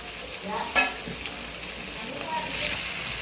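Onion, tomato, ginger and garlic sauté in a hot pan for paneer butter masala, giving a steady close sizzle with a single spoon stir or scrape.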